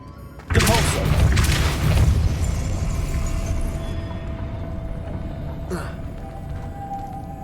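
A Depulso spell cast in the Hogwarts Legacy video game lands as a sudden loud boom that then rolls into a long rumbling wash, with a brief sharp crackle near the end.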